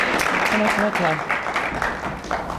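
Audience applause in a lecture hall after a guest speaker is invited to the podium, a steady wash of many hands clapping throughout, with a few voices and murmurs mixed in.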